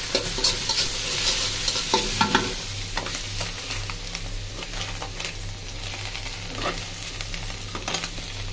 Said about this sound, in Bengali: এখন পেঁয়াজ কুচি দিয়ে দিই।